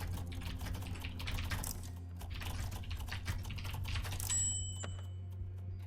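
Fast typing on a computer keyboard during a game, a rapid, close clatter of key presses in quick bursts with brief pauses.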